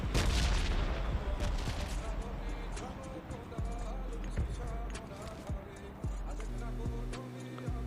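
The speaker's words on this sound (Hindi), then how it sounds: "लेकिन साइड से हो रही थी फायरिंग, तो मैं यहाँ पर रुक जाता हूँ हिल पे" Gunfire in the mobile battle royale game PUBG Mobile Lite, several sharp shots spaced through the scene, some single and some in quick bursts, mixed with game ambience and a few louder impacts.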